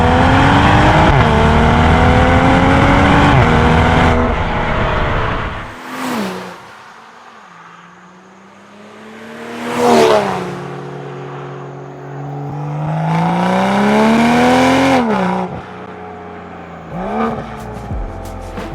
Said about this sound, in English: in terms of exhaust setup, you have a Miltech full system exhaust, and it sounds absolutely